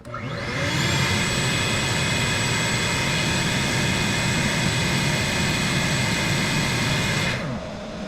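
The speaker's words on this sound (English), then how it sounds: "Next up is a rigid shop vac." A Ridgid shop vac running on a portable power station whines up to speed, holds a loud steady roar with a high whistling tone, then switches off and spins down.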